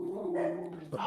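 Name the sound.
dogs barking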